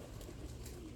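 Pigeons in a loft hallway coo softly and continuously in the early morning, a low murmuring chorus close by with no talking.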